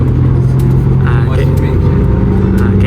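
Large van driving away from Istanbul airport, a steady low engine and road rumble from inside the cabin, with people talking over it.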